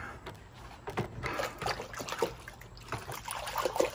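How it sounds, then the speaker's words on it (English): A hand is rinsed in a bucket of dirty water in a workshop while making a mold, with soft irregular sloshing and dribbling splashes, close and fairly quiet. "Just clean my hand up in the dirty water."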